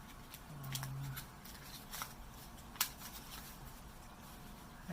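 Scissors snip through a sheet of Tyvek while a wallet is made, giving quiet, sparse crisp cuts and rustles with one sharper snip near the end, close and faint in a calm room.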